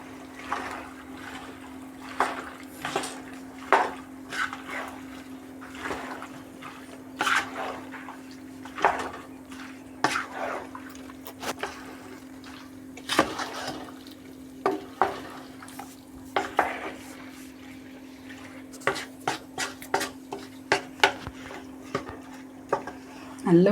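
Mango pickle being mixed with vinegar in a non-stick pan on a gas stove: repeated close scraping and tapping strokes of a spoon against the pan in an uneven rhythm over a faint steady hum and soft frying.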